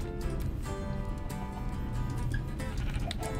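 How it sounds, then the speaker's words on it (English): Blocky sheep in the Minecraft video game bleat over a busy, continuous bed of game sound and music, the short wavering calls repeating through the brief moment. "I see one more sheep."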